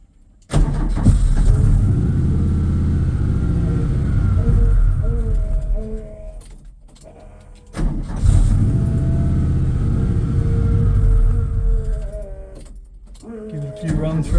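A lifted VW Beetle Baja bug's engine runs on poor fuel, rising into two long, loud revs that rumble and fall back with a brief dip between them, close to the microphone.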